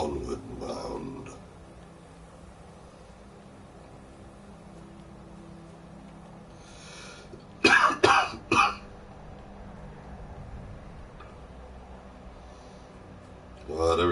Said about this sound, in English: every time I cough, it feels like my ribs are going to fall out.